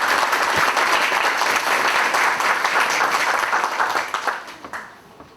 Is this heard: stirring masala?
no